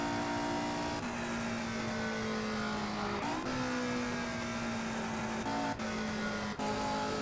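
Race car engine in the Indianapolis 500 Evolution game at a 1964 Milwaukee 100 race, a loud, steady high-pitched drone that rises and dips with gear changes, with brief drops between shifts.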